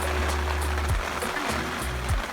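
Steady, dense rain pours down loudly and continuously in North Queensland, a broad wash of patter with low rumbling underneath.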